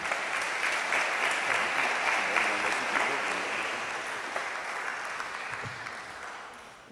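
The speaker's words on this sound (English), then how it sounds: "Please welcome him with a round of applause." An audience at a religious lecture breaks into sustained applause to welcome a speaker, a broad, even wash of many hands clapping that starts strong and slowly tapers without fading out.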